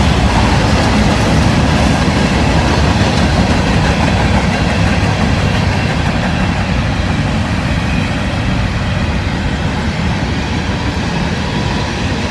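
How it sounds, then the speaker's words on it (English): An empty grain train rolls past near Hamilton, a steady loud rumble of rail cars with rhythmic clickety-clack of wheels on track joints, continuous through the whole stretch with no talking. "got a grain train coming here"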